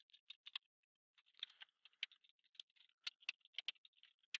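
Rapid, irregular keystrokes on a computer keyboard entering a Frederick County Public Schools email address, close and fairly quiet, in clustered bursts with short pauses and no talking.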